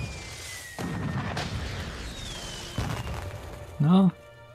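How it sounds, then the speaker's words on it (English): Cartoonish fireworks go off in a few booming bursts and sharp pops, with a whistling streak and a voice under the noise, from the animated series My Little Pony: Friendship Is Magic. "And unsafe fireworks provided by Trixie."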